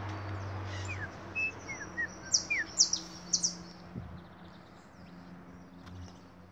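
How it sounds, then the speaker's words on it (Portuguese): A small bird sings in a backyard with a series of short, bright chirps and rising whistles, fairly close and clear over a soft background hum, then fading to quiet. "O passarinho cantando bonito, ó."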